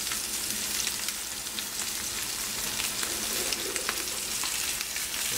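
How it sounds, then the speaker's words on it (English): A New York strip steak sears in a hot pan, a loud, steady sizzle crackling with fine spattering pops throughout, close and continuous with no voices. "Really doesn't take too long to sear it off."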